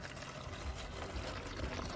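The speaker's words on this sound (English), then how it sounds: "I'm going to fill up this water and it's going to start pouring out there" Water poured through the top of a container in a classroom science experiment, a steady close splashing and trickling wash with no talk.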